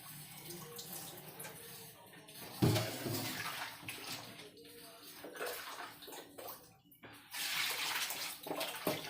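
Meat bought ready-cut from the market is rinsed at home under a running tap, water splashing and gurgling with clattering handling noises, close and moderately loud.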